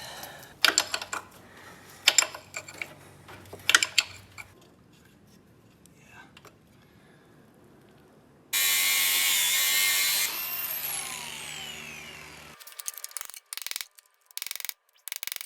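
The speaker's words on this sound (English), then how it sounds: "We split the nut." Splitting a seized nut on a 1965 VW Beetle engine during teardown: sharp metallic clicks and taps, then a loud sustained power-tool whine for several seconds, followed by choppy tool bursts.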